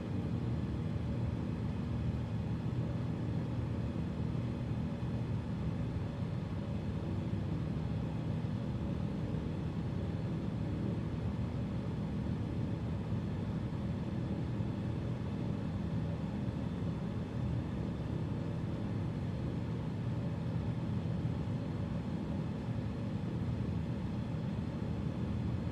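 Single-engine aircraft in a flight simulator holding 3,000 RPM, a steady droning engine rumble that stays even and continuous throughout, with no voices.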